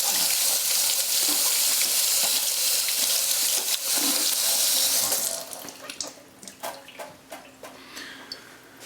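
Tap water runs steadily over an orange pepper in a kitchen sink, a loud continuous splashing rush that stops partway, leaving lighter drips, taps and handling sounds.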